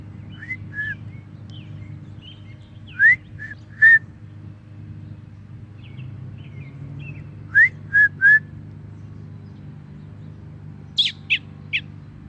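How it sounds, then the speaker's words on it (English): A small bird gives short, bright whistled chirps in loose clusters of two or three, standing out clearly over a constant low hum. "I've been getting him to chirp like that."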